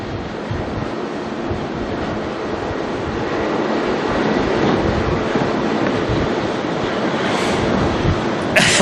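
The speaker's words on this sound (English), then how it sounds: "Lining up now down the end, NZ109, which is going to head on off to Sydney, 321 Neo" Air New Zealand Airbus A321neo jet starting its takeoff roll at Auckland Airport, a sustained broad engine roar that slowly rises in loudness, heard alone without talk.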